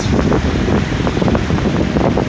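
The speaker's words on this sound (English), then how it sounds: "it is very windy" Strong wind buffets the microphone on a bridge over the Murray Canal, a steady, loud rushing roar that fills the whole stretch without a break.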